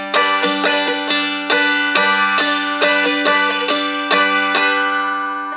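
Spruce-top Seagull M4 dulcimer strummed in waltz time for four bars, bright ringing chords with regular tap-and-down strokes in a steady three-beat pulse, close and fairly loud with no voices.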